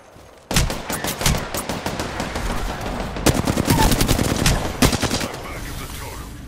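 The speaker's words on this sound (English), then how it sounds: "I am taking fire, friends." Automatic gunfire in the battle royale game Apex Legends: rapid machine-gun bursts crack in close, loud volleys that start abruptly and keep going in repeated strings, with a voice line faintly under them.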